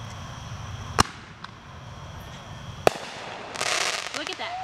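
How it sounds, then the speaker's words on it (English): Birthday fireworks go off outdoors, with two sharp distant bangs followed by a louder crackling burst near the end, heard over a steady background hum. "Watch the fireworks."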